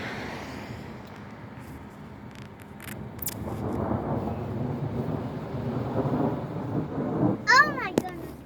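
Thunder rolls through a Kentucky thunderstorm in early March, a low rumble building over several seconds amid rain, ending in a sharp crackle near the close.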